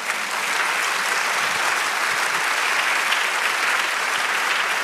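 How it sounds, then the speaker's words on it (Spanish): A church congregation claps for the Lord in a loud, sustained wash of applause, dense and even from start to finish with no voices rising above it. "Dale un aplauso al Señor"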